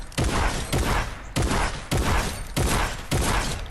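Shotgun blasts in Fortnite, six heavy booming shots at a steady, slightly spaced rhythm, each with a sharp attack and a rolling decay, loud and close with no talking.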